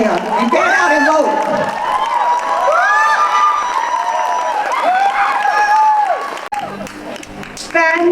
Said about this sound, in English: another round of applause for Manufo Viaga Anoai